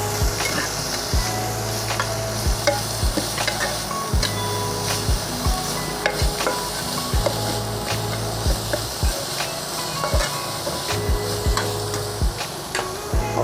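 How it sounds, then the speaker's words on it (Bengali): Onions frying in a pan while being stirred, with a steady sizzle under repeated scraping strokes of a spoon at an uneven rhythm, close and moderately loud. "পেঁয়াজটা দিয়ে দিলাম, আমি একটু নাড়াচাড়া করে নেব।"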